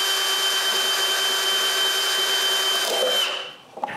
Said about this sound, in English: I turn the box and drill the final hole